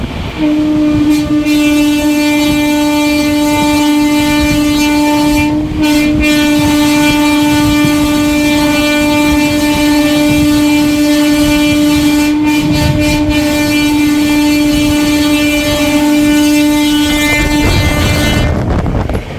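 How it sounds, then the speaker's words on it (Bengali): The Porbandar Shalimar Superfast Express passes close by, a loud, continuous rumble of rolling wagons with a sustained tonal hum running the whole time and no voices. "পোরবন্দর শালিমার সুপারফাস্ট এক্সপ্রেস গেল।"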